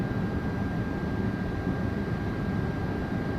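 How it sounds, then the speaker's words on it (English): Thrust reversers on a 737 airliner landing in Microsoft Flight Simulator 2024 give a steady, dense roar of rushing engine noise that holds constant throughout, with a faint high whine running underneath. "we got our thrust reversers working this time"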